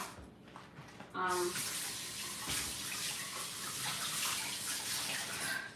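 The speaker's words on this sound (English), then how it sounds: "Let me pour the other juice in a container." Juice pours steadily into a container in a home kitchen, a continuous splashing liquid stream that starts abruptly and stays loud and close throughout.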